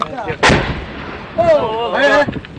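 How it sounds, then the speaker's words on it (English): Heavy artillery fire from big guns in the Libyan conflict, heard as two loud, close booms about a second and a half apart, each rolling out briefly, with faint voice-like sounds between them. "But the other side responds with their bigger guns."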